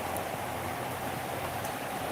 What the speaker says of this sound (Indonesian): Lagi hujan deras di sini.